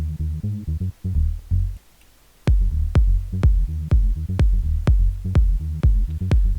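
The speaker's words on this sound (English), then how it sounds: "Got that filtered saw, detuned saw, and I added those together." Filtered and detuned saw synths layered in a tech house track, a warm buzzy rhythmic stab pattern that briefly drops out, then returns with sharp percussive hits on the beat, loud and without talking.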